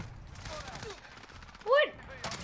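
Gunfire from the video game Call of Duty: Modern Warfare, with quick shots over game sounds, a sharp louder burst partway through, and faint speech around it.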